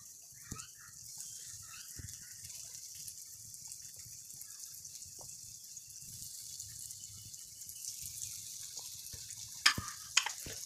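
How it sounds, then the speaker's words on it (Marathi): Steady low sizzle of potato slices frying in oil over a medium flame, moderate and continuous, with a few brief clinks and splashes near the end. "आता हे जे मी कापं करून घेतले एक एक करून मी या तेलामध्ये टाकते"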